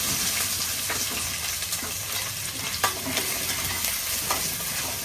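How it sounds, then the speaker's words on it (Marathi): Crabs sizzle in hot oil tempering with Malvani bhajku masala in a pan, making a steady, dense frying hiss that runs without a break. Faint stirring clinks can be heard now and then over the continuous sizzle. "सरसरीत अगदी फोडणी दिल्या ना सरसरीत"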